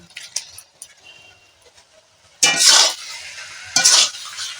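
Spiced cauliflower is tipped into a pot of half-boiled potatoes, making two loud bursts of sizzling, clattering food-and-metal noise after quieter utensil clinks.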